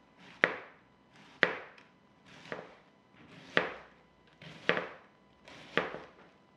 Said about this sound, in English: I'm going to hand shred them